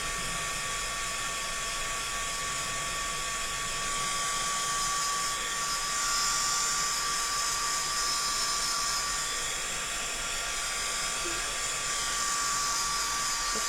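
A blow dryer runs continuously at steady volume with a high-pitched whine, drying freshly painted MDF at close range, with no break in the airflow throughout.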